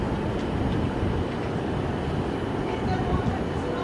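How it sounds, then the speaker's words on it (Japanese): A steady, heavy rumble of an Ainokaze Toyama Railway 413 series train rolling in along platform 7 at Tsuruga Station, Japan, a dense roar with no breaks, with a Japanese station announcement voice beneath it. "まもなく7番乗り場に回送列車が到着します。"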